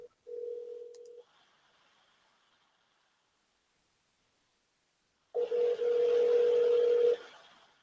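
A phone call ringing out unanswered: a steady ringback tone sounds briefly near the start, then after a long silence a second, longer ring comes through with a noisy hiss behind it.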